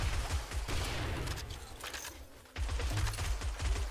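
Turrets fire in the survival game 7 Days to Die, a fairly faint, busy rattle of rapid shots blended with a distant fusillade, easing midway and then resuming with low thumping reports.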